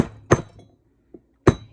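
Two sharp, ringing hammer strikes on a silver ring about a second apart, close by, with a faint lighter tap between them.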